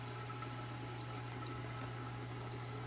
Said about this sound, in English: And then over here is where it drains back into the fish tank here.